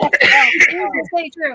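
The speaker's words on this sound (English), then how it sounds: "I coughed." A single close, loud, harsh cough or throat-clearing burst from a person, followed quickly by a few spoken words.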